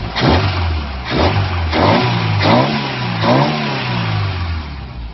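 A Ford Pinto engine fitted with a Weber 32/36 DGAV carburettor in a kit car revs up five times in steady succession, each rise and fall of engine speed loud and close, with no talk.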